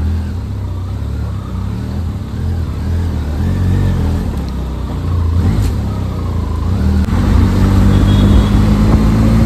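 A 2023 Yamaha R15 motorcycle engine and exhaust while riding, with a loud, steady mid-pitched drone and low rumble that swells as the bike accelerates, recorded close up on a phone with wind noise and no talk.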